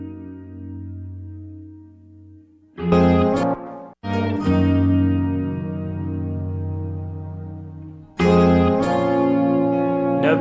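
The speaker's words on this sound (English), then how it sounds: "This kind of shimmer reverb." Electric guitar chords played through a shimmer reverb, with a swelling, octave-up wash that blooms and sustains after each strum, entering after a low sustained tone and returning loudly near the end.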